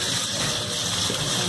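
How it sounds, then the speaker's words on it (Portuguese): Water gushes steadily from a tap over rice being rinsed in a kitchen, a continuous close splashing rush with no pauses. "lavo. Eu passo água nele."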